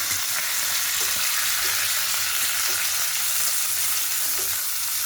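Mustard seeds, cumin, curry leaves and onion fry in hot oil with a dense, steady, close sizzle and occasional faint stirring taps, and no voices.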